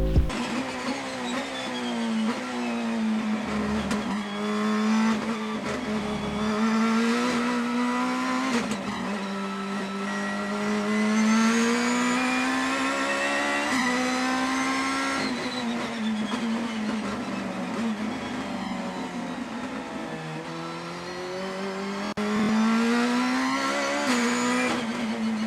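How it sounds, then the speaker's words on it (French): A Renault Twizy electric car gives a steady, prominent high whine that rises and falls in pitch as it accelerates and eases off, heard continuously and close up with no voices. "comme c'est une voiture électrique, ça fait un petit sifflement"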